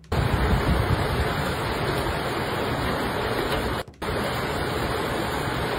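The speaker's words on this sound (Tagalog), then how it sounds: "May hangin tapos yung lakas ng ulan." Typhoon wind and heavy rain roar in Cebu, a dense, constant wash of noise that cuts out for a moment partway through and then returns.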